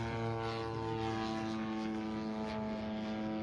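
A radio-controlled scale model airplane dives in a contest flight, its propeller engine droning steadily at moderate distance with a strong tonal hum and no talk over it.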